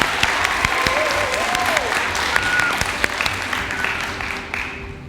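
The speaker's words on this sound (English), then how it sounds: "Let's give them another round of applause." Steady, dense applause from a seated audience at a poetry competition fills the room for several seconds, with a few voices calling out over the clapping before it begins to taper.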